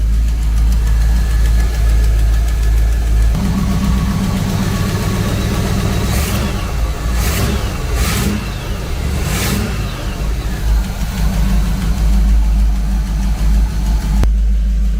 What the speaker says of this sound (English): I think we have an exhaust leak over here.